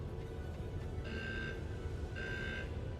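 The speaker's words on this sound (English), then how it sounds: "I have the alarm for leaving the safe zone" A faint electronic alarm sounds twice in the Starbase space game, warning of leaving the safe zone; two short ringing tones about a second apart sit over a low steady rumble.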